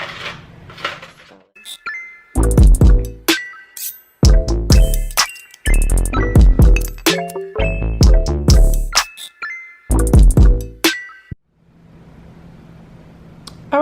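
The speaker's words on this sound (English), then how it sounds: "we're going to fill the bottom of this pan with the cookies" Chessman cookies are dropped into a pan, producing a series of sharp clinks and rattles in uneven bursts, separated by brief quiet gaps.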